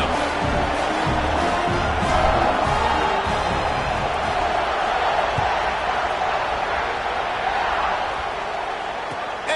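A college football stadium crowd roars and cheers before kickoff, a dense, steady wall of noise from thousands of fans that eases slightly near the end.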